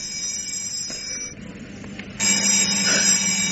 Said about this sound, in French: Le téléphone, madame.